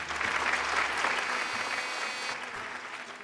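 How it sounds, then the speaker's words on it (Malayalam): A studio audience on a television game show breaks into loud, sustained applause for a winner, a dense clatter of many hands that thins out toward the end. "നല്ലൊരു കൈയടി കൊടുക്കാം"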